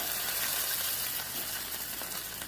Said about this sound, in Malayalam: കടുക് താളിക്കാനായിട്ട് ഇതെല്ലാം ഇതിലേക്ക് ഇട്ട് കൊടുക്കാം